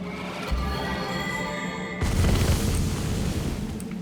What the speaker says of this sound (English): don't worry if you hear explosions